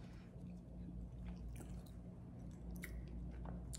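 Someone chewing sweet corn and pickles, soft wet squishing and crunching bites close to the mouth, faint and intermittent over low background hum.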